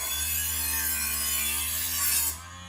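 An electric knife sharpener grinds as a dull kitchen knife is pulled through its fine slot: a steady, close rasping hiss over a low motor hum that runs for about two seconds and then cuts off.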